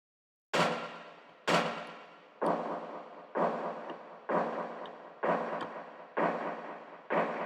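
Eight heavy, booming field drum hits at a steady, slow pace, each with a sharp attack and a long ringing decay, sounding big, pitched and processed.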